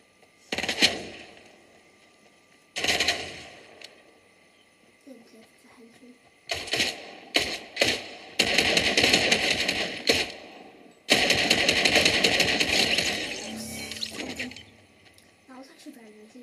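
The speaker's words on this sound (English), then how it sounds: "they're trying to kill me with the assault rifle" Assault rifle fire in a video game: repeated loud bursts of rapid automatic gunfire, some short and some sustained for several seconds, with a person talking in between.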